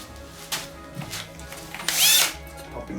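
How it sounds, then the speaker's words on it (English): A cordless drill drives screws into the frame of a simple round LED mirror being assembled. One brief whirring burst stands out near the end of the sound, with faint handling knocks and taps around it. "Popping the screws in."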